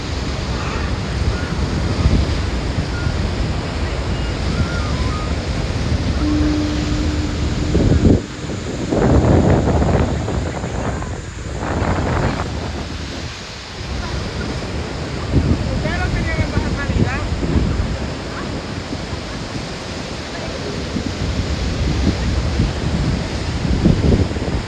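Water from a ground-level waterfall rushes in a loud, steady roar that fills the whole stretch, with wind buffeting and people talking over it at times.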